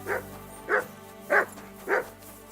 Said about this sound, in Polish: Co ten pies tak szczeka, ej?